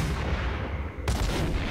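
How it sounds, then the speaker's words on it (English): A grenade launcher firing in the Max Payne video game, a sharp heavy blast that bursts in abruptly partway through over a dense, rumbling background of noise. "Motherfucker has a grenade launcher."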